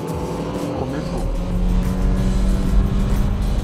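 Race car engine at a Crazy for Auto track event, a steady loud drone that swells and grows stronger as the car accelerates, with a faint voice early on.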